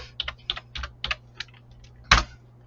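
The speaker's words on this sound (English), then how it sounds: "go on this terminal and type ifconfig" A short burst of crisp keystrokes on a computer keyboard entering the ifconfig command in a Raspberry Pi terminal, about a dozen close clicks ending in one louder, heavier tap like the Enter key.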